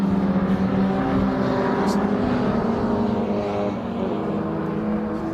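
Race car engines roaring along the Cooper straight at Brands Hatch during an MG Car Club qualifying session, a steady loud engine drone with a brief passing surge, under continuous commentary.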